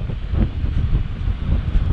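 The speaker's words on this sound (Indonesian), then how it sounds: "Aku tetap kena angin" Steady wind buffets the microphone during a bicycle ride, a dense, low rumbling roar that stays loud for the whole stretch with no voices.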